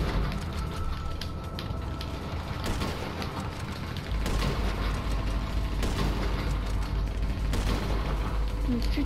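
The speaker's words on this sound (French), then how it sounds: "Maintenant, j'apprends la sniper. Et je snipe les autres" Sniper rifle fire in GTA Online: several sharp, spaced cracks ring out at irregular intervals over a steady, noisy bed of in-game ambience.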